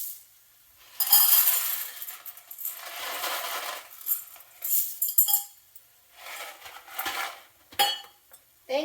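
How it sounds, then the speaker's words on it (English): Raw macaroni noodles poured into a pot, making a series of bright, rattling clatters that come in several separate bursts with short quiet gaps between them, close and fairly faint. "So you're just going to throw them raw right in there."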